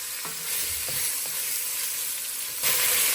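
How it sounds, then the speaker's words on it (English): Beef stew meat searing in a pan, a steady close sizzle and hiss with a few soft clinks of the meat being moved, and a brief louder burst near the end. "We're just going to put a sear on this beef stew."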